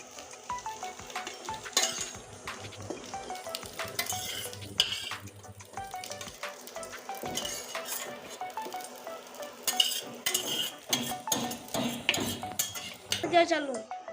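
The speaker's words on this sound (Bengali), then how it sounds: "এখন আমি ডিমগুলো উঠিয়ে নিচ্ছি" Fried eggs are lifted out of a kadai with a metal spatula, bringing irregular close scrapes, clinks and taps against the pan over a faint lingering sizzle, with no talking.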